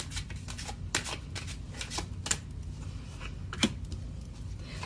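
Tarot cards being shuffled for a reading, a soft continuous riffle and slide of card stock with a few sharper snaps, steady and close at low level with no talk.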